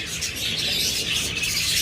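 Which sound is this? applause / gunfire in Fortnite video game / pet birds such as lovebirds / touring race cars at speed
pet birds such as lovebirds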